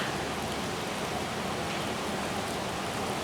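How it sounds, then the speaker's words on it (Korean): Heavy monsoon rain pours down in a steady, dense hiss, constant and enveloping throughout with no voices. "장마철이라 비가 엄청 많이 지금 내리는데 빗소리가 영상에 잘 담겨도 좋을 것 같은데"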